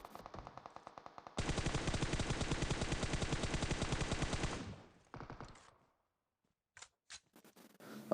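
Gunfire in the mobile battle game PUBG Mobile: short bursts of close automatic fire, then a loud sustained volley of rapid shots lasting about three seconds, followed by a few brief bursts and scattered single cracks after a pause.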